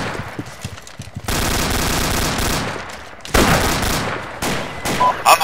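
Sustained automatic gunfire in the Arma 2 military shooter, a dense rattling burst that runs for a few seconds, pauses, then resumes in further loud bursts and single shots close by.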